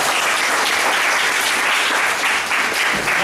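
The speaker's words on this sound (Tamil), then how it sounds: "இப்போ அம்மா அப்பாவுக்கு கைத்தட்ட வேண்டியதான விஷயம்" An audience at a spiritual discourse gathering claps for the parents, a loud and continuous burst of dense applause that holds steady from start to finish.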